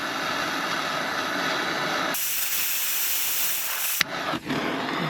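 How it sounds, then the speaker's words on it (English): A blowtorch heats a rusty nut on a Renault Clio steering arm. Its harsh, steady roaring hiss starts abruptly over a low background, holds for about two seconds, then cuts off with a small clunk. "I'm probably going to blowtorch the nut as well, because they don't look very good."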